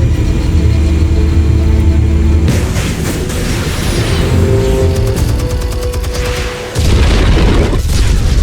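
A loud, sustained explosion rumbles in the Batman Telltale Series game, a deep boom with crackling debris that holds for several seconds before a brief dip and a fresh surge.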